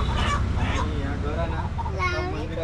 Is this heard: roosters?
yes